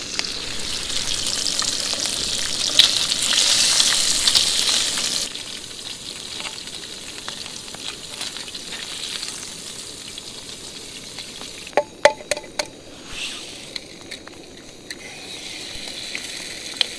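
Bacon and two eggs frying in a pan on an overnight camping trip, a steady broadband sizzle that is loudest for the first five seconds, then settles lower, with a few sharp clinks and pops near the end.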